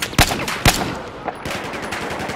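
Battlefield 4 gunfire cracks out in two loud, close shots and then a fainter third, followed by scattered distant firing and background battle noise.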